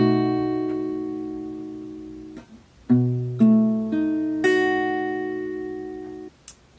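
A guitar chord rings out and decays slowly, then a few more chords are struck one after another, each clear and sustained with quiet gaps between.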